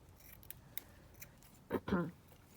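Scissors snip through paper and card on a junk journal flap, with a few light clicks first, then two close, crisp cuts in quick succession, with no talking over them.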